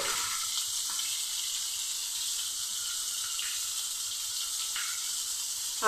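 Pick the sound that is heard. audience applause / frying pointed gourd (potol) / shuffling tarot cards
frying pointed gourd (potol)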